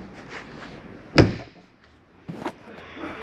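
A door on a 2015 StarCraft 21FB camper shuts with one sharp, close thud, followed by a softer knock a moment later in a quiet setting.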